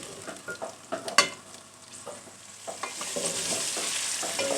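Chicken sizzles and crackles steadily in hot oil with golden-browned ginger and garlic, with a few clinks and stirring scrapes early on before the frying hiss swells louder.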